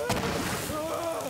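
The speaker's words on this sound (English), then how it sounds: "It's like a corrosive rocket launcher." A corrosive rocket launcher in Borderlands 3 fires a short, booming shot followed by a hissing, ringing tail, loud and close, over about a second.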